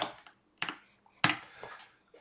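A few scattered, sharp clicks and taps from someone typing on a computer keyboard, with irregular pauses between them. No one speaks.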